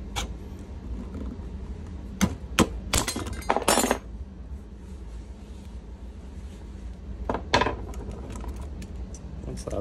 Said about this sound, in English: There's a bit of prying that you have to do to remove this.